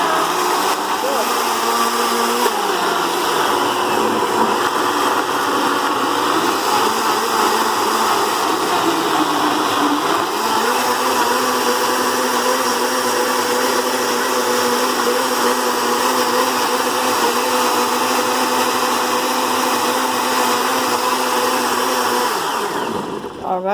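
A Brentex blender runs at high speed blending a green vegetable smoothie, a loud continuous whirring roar with a steady pitch that dips briefly a couple of times before winding down at the end.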